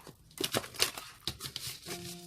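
Tarot cards being shuffled by hand: a series of crisp, papery riffles and soft slaps in quick uneven bursts, close and fairly quiet, ending with a faint steady tone.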